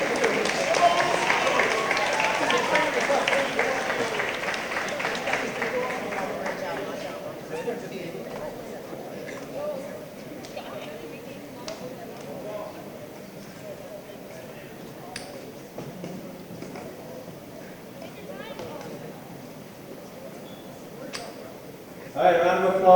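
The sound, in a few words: audience applause at award ceremony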